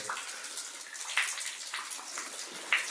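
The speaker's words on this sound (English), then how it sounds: "Hold on, I'm getting dripped on." Water drips and trickles inside an abandoned Italian mine adit, the Monte Arsiccio mine, a steady hissing wash punctuated by a few distinct close drops.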